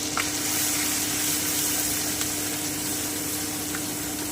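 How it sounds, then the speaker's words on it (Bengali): Ground spice paste frying in a pan while being stirred, a continuous close sizzle with a low steady hum underneath and occasional faint utensil scrapes, no voices. "এবারে আমি পেস্ট করা মশলাটা দিয়ে দিচ্ছি আমি একটু নেড়ে নিচ্ছি"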